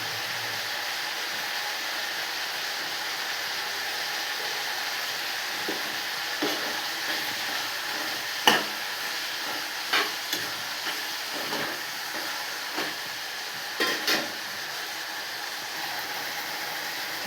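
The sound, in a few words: tomatoes sautéing and being stirred in a pan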